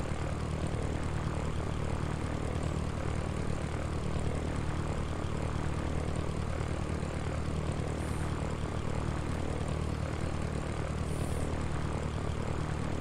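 Propeller plane engine from the Sierra Pro Pilot flight simulator, a steady loud drone with a low hum holding evenly throughout, flying from Chicago Midway toward Joliet Regional.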